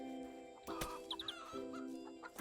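Chickens cluck softly in the farming video game Garden Paws. A few short, quiet clucks and chirps sit over a steady tonal background of game music.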